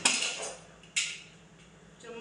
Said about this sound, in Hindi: चम्मच के साथ हम इसको अच्छे से हिला लेंगे ताकि हमारे चावल नीचे बैठे नहीं